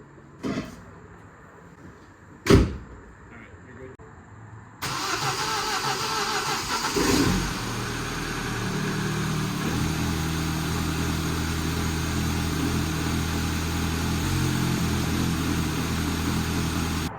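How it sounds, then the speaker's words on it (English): A Mini Cooper's engine is cranked and catches after a few clicks and thumps, then settles into a steady, close idle that runs on without pause. "Ain't nothing left to do but fire her up."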